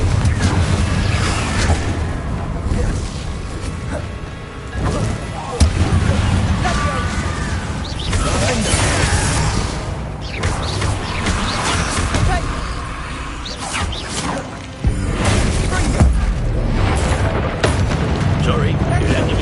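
Booming explosions from Confringo spells cast in a video game, dense and loud, with sudden blasts and crashes. A person shouts over the noise throughout.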